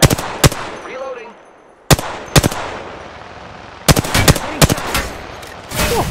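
Gunfire in Apex Legends, heard as several loud, sharp bursts of automatic shots with quieter game ambience between them.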